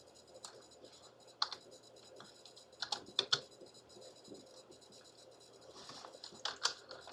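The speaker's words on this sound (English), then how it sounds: "let me go ahead and type that out" Irregular bursts of typing on a computer keyboard, with quick clusters of clicky keystrokes and short pauses between them, fairly close and quiet, with no talking.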